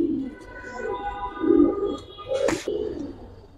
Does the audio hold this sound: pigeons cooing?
yes